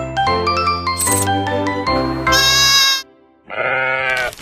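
A Peranakan Etawa goat bleats loudly and close in several long, wavering cries, with a short pause before a final bleat, alone with no talk.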